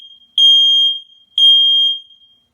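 A Nest Protect smoke detector sounding its alarm during a self-test: two loud, piercing, identical high-pitched beeps, each lasting about half a second with a pause between, close and clear with no other sounds.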